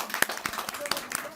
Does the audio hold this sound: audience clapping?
yes